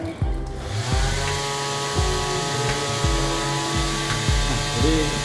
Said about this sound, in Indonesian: di sini saya akan menggunakan kipas ini sebagai simulator anginnya